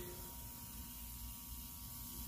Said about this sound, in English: So now this is what it looks like after you mix the Kiss Express and the alcohol. This is what happens when you spray.